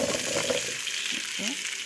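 Pumpkin cubes cook in a pan with a brief, moderately loud frying sizzle and a little stirring, with a faint voice sound near the end.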